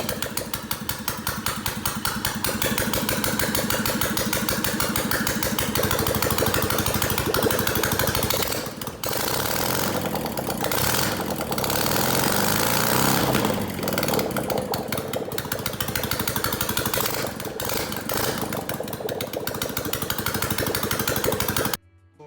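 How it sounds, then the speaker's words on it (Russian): A Ural 750cc motorcycle engine idles with mufflers off during carburetor adjustment, a loud, rapid, harsh mechanical chatter running continuously with slight rises and dips in speed before cutting off at the end. "Настраиваем холостой ход."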